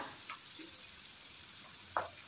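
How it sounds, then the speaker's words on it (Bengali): Chopped medium onion fries with spices in a pan for a dhaba-style egg curry, giving a faint, even hiss of sizzling oil with a couple of soft clicks of a stirring utensil. "পেঁয়াজ লাল করে ভেজে নিতে হবে"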